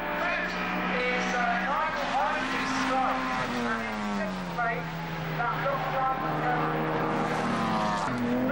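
Austin Healey race cars lapping a circuit through the S bends during a 1996 club championship race, engine drone rising and falling steadily beneath continuous commentary.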